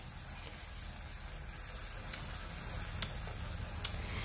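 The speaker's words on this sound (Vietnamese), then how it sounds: "Giờ nó đã sôi lên rồi đó các bạn" Spicy enoki mushroom sauce bubbling in a pan, a steady close sizzle and gentle popping with a few sharper pops near the end.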